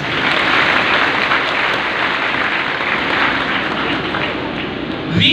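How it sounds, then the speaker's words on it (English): A graduation audience at a university ceremony applauds, giving a steady, dense wash of clapping that holds loud and even throughout. "big round of applause."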